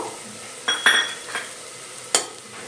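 Ginger garlic paste frying with onions for a Telangana mutton chikna boti curry, a low sizzle in the pan broken by four or five scraping, clinking strokes of a spoon stirring the mixture.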